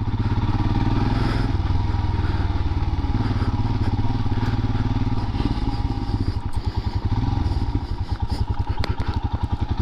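Royal Enfield Himalayan motorcycle (2021) exhaust running, a loud close low thumping single-cylinder putter that stays steady and grows more distinctly pulsed toward the end, with no talking.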